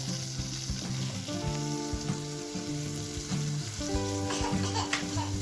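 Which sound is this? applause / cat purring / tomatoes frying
tomatoes frying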